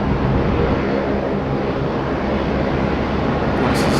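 An airliner on the Qantas flight 81 departure from Sydney Airport to Singapore, wearing the old A380-era livery, gives a steady, loud jet roar that holds through the whole stretch without letup.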